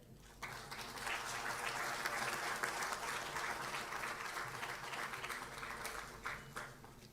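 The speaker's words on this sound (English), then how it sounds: "Can we have a big round of applause?" A sustained round of applause from an audience at a 6G standardization workshop during a memento presentation, dense and steady from start to finish, heard from a distance.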